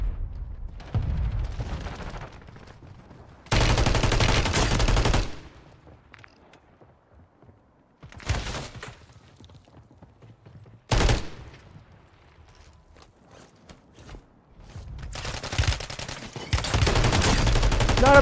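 Bursts of automatic gunfire from a Call of Duty video game rattle out in several loud clusters separated by quieter gaps, some sustained and others brief, with a player's voice faintly heard.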